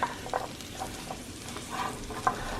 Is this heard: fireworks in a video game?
no